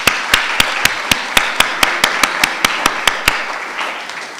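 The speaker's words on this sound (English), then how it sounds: "We can give him another round of applause" An audience at a South African book launch gives a professor a round of applause, heard as a steady run of sharp, evenly spaced claps fairly close by that thin out and fade after about three seconds.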